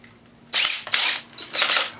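A power drill bores a pilot hole in wood for bench work on a model railroad layout, giving two close, loud whirring bursts with a brief pause between them.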